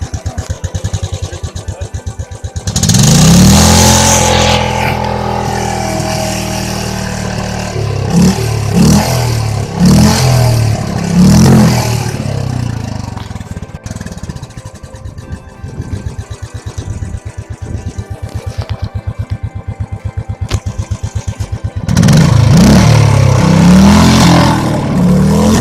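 A Royal Enfield Classic 500 motorcycle, Squadron Blue, thumps at a loud close-up idle with a rapid, even exhaust beat, rising into throaty revs at the start and again near the end.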